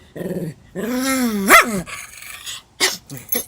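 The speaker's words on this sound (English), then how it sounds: "There's all that growling and you have to cough." A dog growls in low rumbling stretches, broken by a sharp yelp or bark and a couple of short rough coughs.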